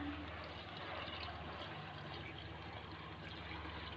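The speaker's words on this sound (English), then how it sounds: "in this I am going to add the water" Water pours into a pot of basmati rice being cooked for a one-pot peas masala rice, a steady quiet trickling and filling sound at close range with no talking.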